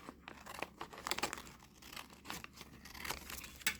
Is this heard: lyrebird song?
no